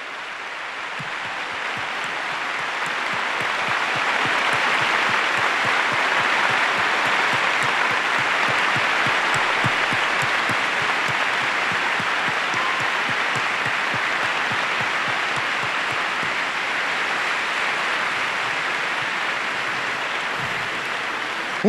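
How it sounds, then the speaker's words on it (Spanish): A conference audience breaks into sustained applause, a dense steady wash of clapping that swells and holds for about twenty seconds with no voices over it. "Carolina Padilla, para quien pido un aplauso, y que el aplauso llegue hasta el Distrito F"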